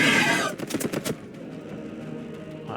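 Rapid automatic gunfire from a squad in a video game, a short loud rattling burst of several shots in quick succession that cuts off abruptly, followed by quieter background.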